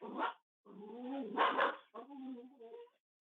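Dogs bark at home in a few bursts of yips and barks with a whimpering edge. The sounds are fairly quiet and come through a voice-call microphone, with talking heard alongside.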